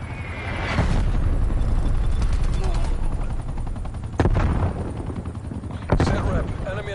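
Artillery shells crash down in a military video game, a sustained roar of explosions and rapid gunfire with sharp heavy impacts around four and six seconds, loud and close, under radio-style voice callouts.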